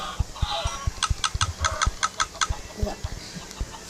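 Chickens in Minecraft cluck on an automatic chicken farm, giving a quick run of short, fairly close clucks in a steady rhythm, with no talking.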